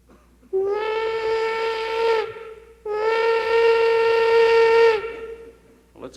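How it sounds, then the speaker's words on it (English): A big old steam locomotive whistle gives two long, loud, steady blasts with a short gap between them. The tone is rich and harmonic, and no one speaks. "This is the big locomotive of yesteryear, the one with the steam whistle."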